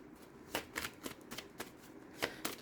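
Tarot cards being shuffled softly and close by, a quick series of light riffling flicks over a faint background hiss, with no voices.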